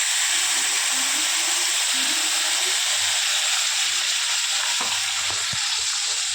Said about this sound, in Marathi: आता मी याच्यात वाटलेला मसाला देखील घालणार आहे.